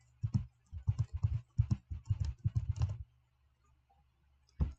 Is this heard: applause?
no